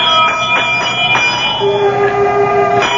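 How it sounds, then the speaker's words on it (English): A pull bell at the great door of Carrig Clena rings out loud and close, a run of bright metallic strikes followed by a lingering, sustained ring that slowly decays, with no voices. "I reach out and pull the bell."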